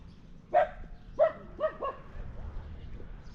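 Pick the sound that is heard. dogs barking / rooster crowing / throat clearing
dogs barking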